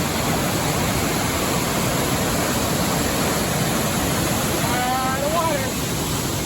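Steady, loud rushing water fills the scene like a nearby stream or cascade at a trail switchback in the Wallowa Mountains, with a brief voice faintly audible beneath it.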